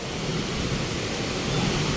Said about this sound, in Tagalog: Sana tumigil na yung ulan na yan. Ang lakas